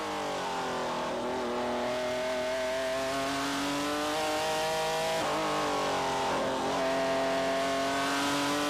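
V6 3.5-litre race car engines drone loudly and continuously at Sebring in 2002, their pitch climbing and dipping as they accelerate and shift, with no voices.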